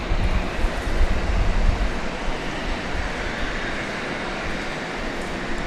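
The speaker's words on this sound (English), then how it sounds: "We do have another plane landing here." An airplane at Dallas Love Field airport produces a broad, heavy engine roar, loudest at the start and easing slightly as it continues, distant but filling, with no talking.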